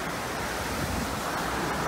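The Androscoggin River, swollen after rain, rushes in a dense, steady roar of broadband water noise, loud and continuous with no voices.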